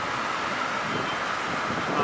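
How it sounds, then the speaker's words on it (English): Wind tears across a camera microphone during a Mojave Desert wind storm, a constant close rumbling hiss of buffeting noise with no speech. "I don't know if the wind's tearing up the mic on this camera or not."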